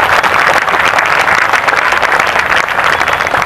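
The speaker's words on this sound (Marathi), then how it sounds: "टाळ्या." Loud, dense applause from an audience at a felicitation ceremony in a Buddhist vihara in Powai, Mumbai, with many hands clapping evenly and without pause.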